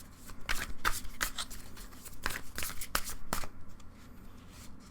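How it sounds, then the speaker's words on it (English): Tarot cards are shuffled by hand in a run of crisp riffling bursts, each a short papery flutter repeating irregularly, close and clear with no talking. "And then I'm going to shuffle."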